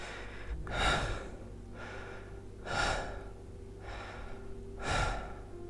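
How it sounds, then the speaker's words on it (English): Heavy breathing close to the microphone comes in three slow, loud gasping breaths spaced about two seconds apart, with a faint steady hum between them. "Hear my breathing?"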